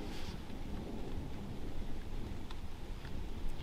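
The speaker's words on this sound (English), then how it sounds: "it's starting to rain and there's a little bit of thunder" Light rain patters steadily outdoors in a dark, gloomy forest near a creek, with a faint low rumble of distant thunder underneath; no one speaks.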